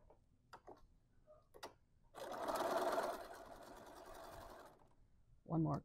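A sewing machine stitches a quarter-inch seam on a folded fabric coaster, a close, steady mechanical run of about two and a half seconds, with faint clicks and handling sounds before it and a brief voice at the end.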